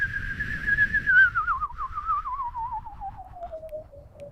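A person whistles a single long, clear tone in imitation of a bird, warbling and slowly sliding downward in pitch over a few seconds, close and alone.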